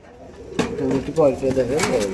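A pair of running pigeons, a large female and a male, coo close by. Several rolling, throaty coos follow in quick succession, with someone speaking over them.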